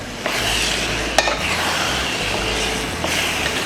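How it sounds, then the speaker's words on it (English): Minced beef and dried-down tomato sizzle in a pan while being stirred, a steady close frying hiss broken by a few sharp scrapes and clinks of the utensil against the pan. "The minced beef goes in, and then I'm going to stir."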